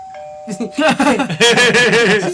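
A voice sings a two-tone ding-dong imitating a doorbell, repeated in short melodic bursts.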